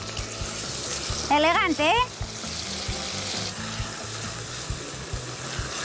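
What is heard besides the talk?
onion added to pan with browned garlic, frying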